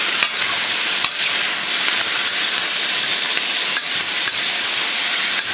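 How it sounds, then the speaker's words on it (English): Beef searing in a hot pan with oil, a loud, dense, continuous sizzle with occasional sharper spits, close up and without talk. "you got a nice sear going right there"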